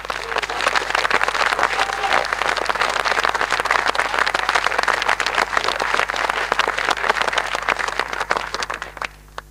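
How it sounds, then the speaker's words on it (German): Dense, sustained audience applause at a political referendum event in Switzerland, a steady wash of many hands clapping at full loudness that fades out near the end. "Und da bitte einen grossen Applaus an alle"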